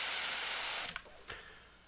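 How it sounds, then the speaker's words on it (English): An airbrush sprays paint onto a stencil template for a snake design, giving a steady, close hiss that cuts off abruptly, followed by two short puffs of spray. "I'm going to spray on the template itself."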